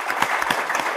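Audience applause at an Italian event, a short burst of dense, moderately loud clapping with no voices over it.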